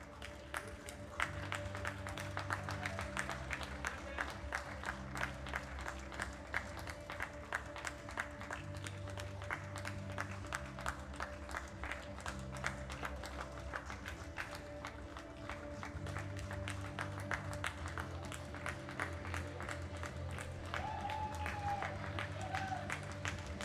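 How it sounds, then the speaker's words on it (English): Spectators at a world classic powerlifting championship keep up rapid, steady applause over a hall with a constant hum, with the clapping continuing evenly throughout and voices mixing in. "Ladies and gentlemen, give these ladies a round of applause"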